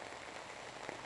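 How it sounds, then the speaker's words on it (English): Rain pours down over a beach parking lot as a continuous close hiss of drops, with one faint sharp tap near the end. "It's raining."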